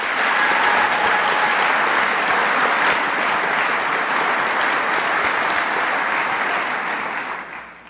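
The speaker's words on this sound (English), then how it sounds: "Please give them a big round of applause." A large audience at a bill-signing event gives a big round of applause, a loud, dense and steady roar of clapping lasting nearly eight seconds before tapering off at the end.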